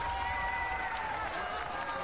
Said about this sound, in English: Now this is going to be a huge cheer